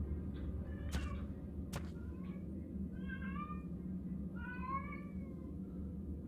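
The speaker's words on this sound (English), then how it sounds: "Oh, there goes the cat." Cat in the survival video game Ark: Survival Evolved, several short meows scattered across a few seconds, moderately clear over a steady low ambient rumble, with a couple of sharp clicks early on and no talking.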